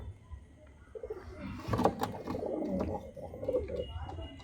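Madrasi pigeons coo in a loft, a few soft, throaty rolling calls rising and falling close by, with faint background rustle and no talking.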